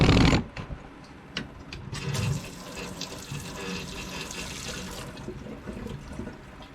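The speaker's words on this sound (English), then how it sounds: "Right, we'll rinse these off." Skinless catfish fillets are rinsed under running tap water, a close, splashing flow after a loud opening burst, with the stream shifting as the fillets are moved through it.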